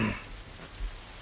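Heavy rain from a big flood storm hitting a surface, a dense steady hiss with a low rumble, heard alone for a brief moment.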